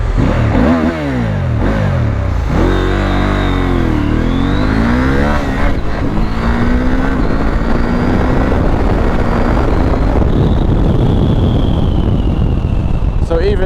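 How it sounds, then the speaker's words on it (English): A Husqvarna Norden 901 adventure motorcycle in rally mode with traction control on, revving and accelerating hard with climbing engine pitch through gear changes, loud and close, with heavy wind rush throughout. "I will show a little acceleration now of the bike"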